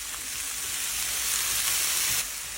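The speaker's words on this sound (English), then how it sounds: "I'm going to get those into a hot oil pan" Courgettes and tomatoes frying in a hot oil pan, a loud, close, continuous sizzle that swells slightly before easing near the end, with no talking.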